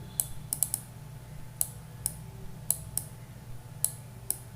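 Code is typed on a computer keyboard as a sparse, irregular run of crisp key clicks, close and fairly quiet, over a low steady hum with no talking.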